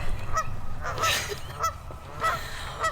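A wild turkey gobbles close by during a spring turkey hunt, with several rapid, throaty, rattling calls repeated at intervals over a rough outdoor background.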